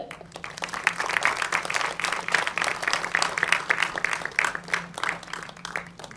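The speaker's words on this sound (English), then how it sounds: "So with a warm round of applause" An audience at a centenary masterclass event gives a warm round of applause as a speaker is welcomed on stage, dense and lively clapping with uneven bursts sustained throughout at close, loud level.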